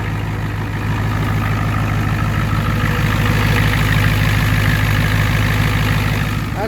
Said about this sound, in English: Idling real nice, no smoke or nothing.